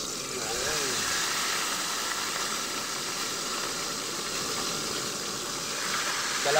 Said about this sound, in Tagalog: Mainit na yung kawali natin. Ilalagay na natin yung tilapia.